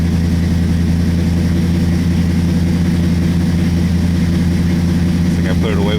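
A 1967 Plymouth Satellite engine idling just after a cold start, a steady loud low-pitched rumble with an even pulsing beat, held close and unchanging throughout.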